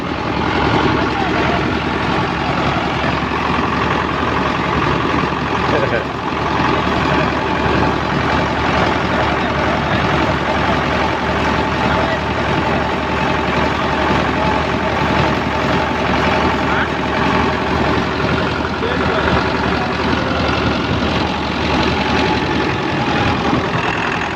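A loud, steady engine rumble runs throughout, close and unbroken, like a heavy tractor idling, with voices faintly mixed in.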